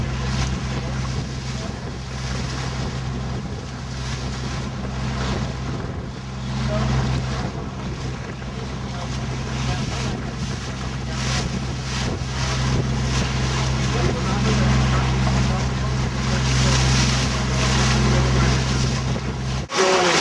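Sailboat running downwind at about 8.5 knots, a steady rush of water along the hull mixed with wind buffeting the microphone and a low continuous hum.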